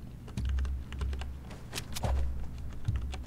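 Quick, uneven key presses on a small compact computer keyboard, near and steady with occasional louder clacks over a low hum while playing Fortnite.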